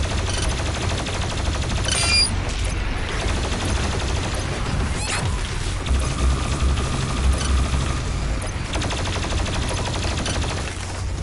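Turrets in DOOM Eternal fire in sustained rapid bursts, a dense, continuous mechanical rattle of gunfire with a few sharper blasts layered over it, loud and steady throughout with no pause.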